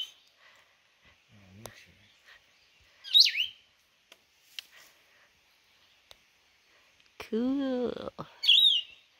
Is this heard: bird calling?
yes